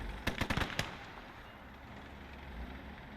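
Rapid cluster of close gunfire cracks from gun systems in a snowy Eastern Front battle in Gates of Hell: Ostfront, packed into the first second, then fading into a low, steady battlefield rumble.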